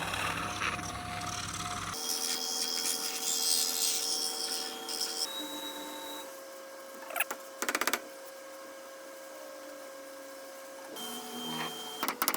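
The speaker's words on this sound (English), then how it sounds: "So put this on whilst the lathe is running." Wood lathe spinning a turned pencil-lamp piece while a wax stick is pressed against it, a steady hum with tonal whine and rubbing friction that shifts in pitch, plus a few brief knocks, nearby and without speech.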